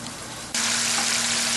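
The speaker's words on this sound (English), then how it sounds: "we'll go ahead and come back when the fish is done frying" Hot oil erupts into a loud, dense sizzle as fish drops into a deep fryer, then keeps crackling steadily up close.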